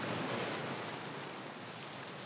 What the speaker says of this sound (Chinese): 这里有舒服的海浪声